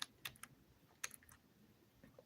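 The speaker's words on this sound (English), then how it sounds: "Let me bring my keyboard over here so I can type." Soft clicks of typing on a computer keyboard, a few quick bursts of keystrokes separated by pauses, faint and close with no voices.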